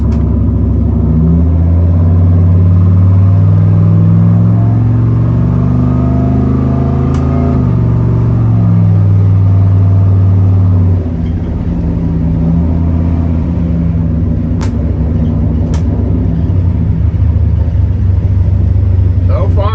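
Turbocharged 4.8 Chevy S10 pickup with a TH400 automatic driving along, a loud steady engine drone with shifting harmonics as it accelerates through the gears, with a brief engine note change midway.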